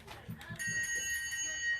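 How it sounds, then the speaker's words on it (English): A bright bicycle-style bell rings out with a sustained metallic tone over lively talk, a short clear ding that hangs for over a second. "A bell ring for that."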